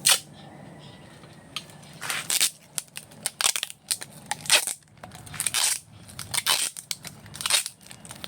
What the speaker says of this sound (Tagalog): Lagyan natin ng scotch tape.